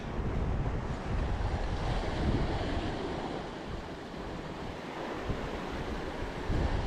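Steady wash of surf and waves with gusting wind buffeting the microphone, continuous and fairly loud, no voices.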